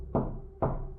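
Two firm knocks on a wooden cabin door, close by and spaced about half a second apart, each a sharp thud over a low steady hum.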